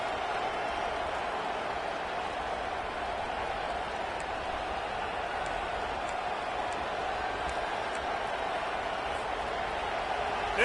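Stadium crowd at a college football game roars in a steady, broad wash of cheering and noise that holds evenly throughout, with a faint commentator voice now and then.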